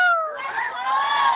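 A rooster crows once, close by: a single drawn-out call that rises and then holds for over a second. No other sounds accompany it.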